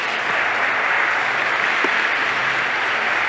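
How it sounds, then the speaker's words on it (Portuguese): A congregation at a religious talk bursts into steady applause, a close, continuous patter of many hands clapping at moderate loudness for a few seconds, without voices over it. "A Jesus uma salva de palmas."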